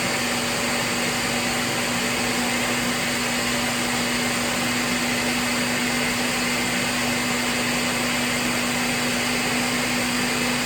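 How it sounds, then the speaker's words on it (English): Blender running continuously on a moringa smoothie, a steady loud whirring motor hum with no pauses or voices. "I blended it down some, and I'm going to blend it a little bit more"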